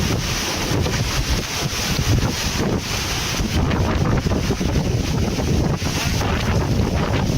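Strong typhoon wind roars and buffets the microphone without pause, loud and turbulent with gusting swells throughout.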